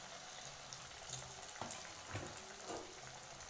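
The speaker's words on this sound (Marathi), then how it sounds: "हे आता असे हे वडे सोडायचे. कमी गॅसवर हे खरपूस भाजून घ्यायचे." Vadas frying gently in oil on low heat, a quiet steady sizzle with a few soft clicks and scrapes of a utensil in the pan.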